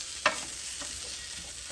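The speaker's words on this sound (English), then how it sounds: "It's nice and sizzling hot there." Steak sizzles faintly on a Blackstone griddle outdoors, a steady soft hiss with one sharp utensil scrape early on.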